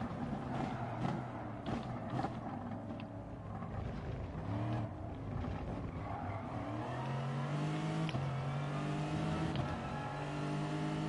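A Lexus RC F race car engine in a racing video game at the Monza circuit drones loudly and continuously, rising in pitch through revving gear changes with no pause and no talk.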